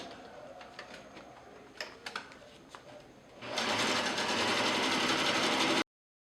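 A sewing machine runs a continuous zigzag stitch along fabric edges to mimic an overlock, a steady loud whir after a few faint clicks and taps, with no talking.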